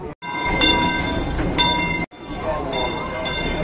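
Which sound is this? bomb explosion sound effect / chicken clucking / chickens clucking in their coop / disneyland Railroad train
disneyland Railroad train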